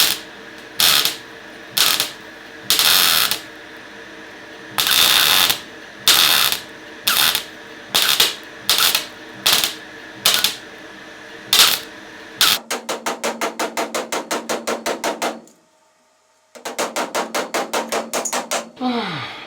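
MIG tack welding on a BMW E30 325i body panel during restoration: a series of short, crackling welding bursts with brief pauses, then two longer runs of rapid, buzzing pulses separated by a moment of silence.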